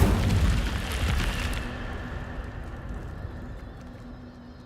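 The Incendio fire spell is cast in Hogwarts Legacy, a loud burst of roaring, crackling flame that swells at once and then fades steadily into a softer rumbling hiss.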